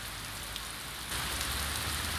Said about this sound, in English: The rain came in a sudden downpour.